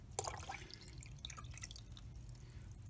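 Water drips and splashes as it is poured from a cup while changing the water in a salamander larvae container, a short close trickle with small droplet taps.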